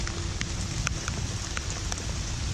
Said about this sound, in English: It's raining at Baras Den here.